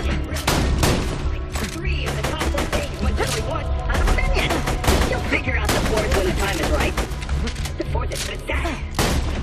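Rapid gunfire from the video game Borderlands 2 crackles in dense bursts and single sharp shots, with brief pauses, loud and close, and some muffled speech mixed underneath.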